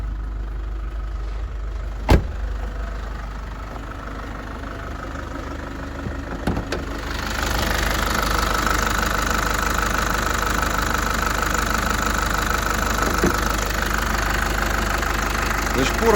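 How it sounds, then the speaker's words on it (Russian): A Mitsubishi 4D20 diesel engine with faulty injectors idles roughly, its steady drone and uneven knock getting louder partway through once the engine bay is opened, with no one talking over it. "Мне очень не нравится звук мотора. Грубоватый."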